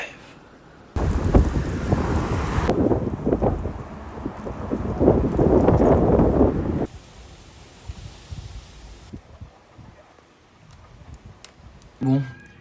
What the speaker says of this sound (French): L'orage se lève.